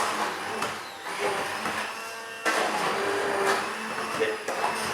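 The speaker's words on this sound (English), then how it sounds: "We're going to take a little hand blender and we're going to blend it." A small hand blender purees warm cauliflower soup made with boiled milk, giving a steady, fairly loud whirring drone that surges louder partway through and keeps running for the whole stretch.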